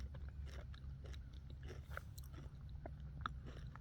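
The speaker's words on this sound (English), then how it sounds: "Let's take a bite of half of this one." Someone bites into half of a ripe Black Madeira fig, giving soft, wet mouth and chewing sounds that are close and quiet, with no talking, over a steady low background hum.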